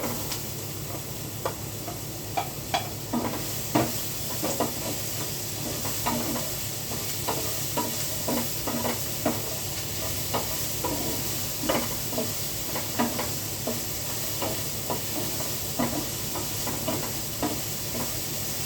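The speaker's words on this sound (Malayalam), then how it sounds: "നമുക്ക് നമ്മൾ ഈ അരിഞ്ഞു വെച്ച് ക്യാരറ്റും എല്ലാം ഇട്ട് കൊടുക്കും" Chopped carrots for upma sizzle steadily in a hot pan while a spoon scrapes and stirs in repeated light clicks, close and continuous, with no voices.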